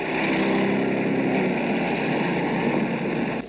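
A steady, loud helicopter rotor and engine drone runs throughout, constant and close, with no talk over it, recorded aboard or beside the aircraft during a 1974 Nashville television news shoot.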